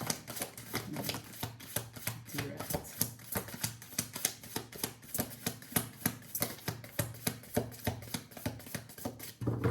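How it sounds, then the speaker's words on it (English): Tarot cards being shuffled in a steady run of quick, crisp riffling taps that repeat for the whole stretch at close range, with no talk over them. "Shuffling for Scorpio."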